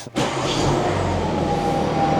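A BMW 7 Series G70 engine starts with a short crank and catches abruptly, then settles into a steady, close idle hum with no talking over it.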